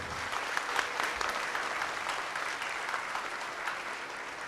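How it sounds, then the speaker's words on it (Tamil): A crowd at the Shri Radha Kalyanam festival in Gandhinagar, Vellore applauds a child, giving steady, moderately quiet clapping that continues evenly throughout. "இந்த குழந்தைக்கு ஒரு பெரிய கைத்தட்டு கொடுக்கலாம்"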